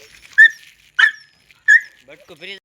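A female dog whimpers in three high, drawn-out whines spaced about half a second apart, close by, followed by softer short yips and whines.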